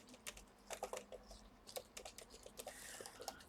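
Typing on the keyboard of a Lenovo IdeaPad 330 laptop: a quick, irregular run of light plastic key clicks, close and fairly quiet, with no talking.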